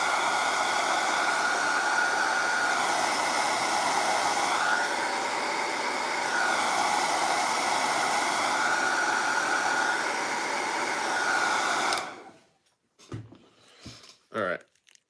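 A hair dryer or heat gun blows steadily and loud as it heats an action figure's hand, a continuous airy roar that runs for about twelve seconds and then cuts off, leaving brief handling noises.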